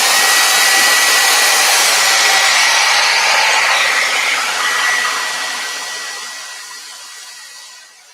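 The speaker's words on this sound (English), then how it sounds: "Hair dryer's going on." A hair dryer blows loudly and steadily at close range while drying paint, then slowly fades and winds down over the last few seconds.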